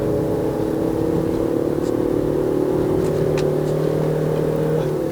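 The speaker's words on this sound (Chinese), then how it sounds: "他很肯把那个转速拉高" A 2019 Proton Exora Premium's engine holds a loud, steady high-RPM drone on a mountain road climb in Malaysia, a continuous close in-cabin roar with no talking over it.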